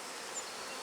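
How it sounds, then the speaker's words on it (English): Steady, dense buzzing of a honeybee swarm in flight, a continuous insect drone with no voices. "there's still a few bees flying around"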